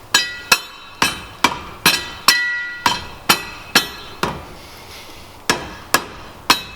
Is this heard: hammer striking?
yes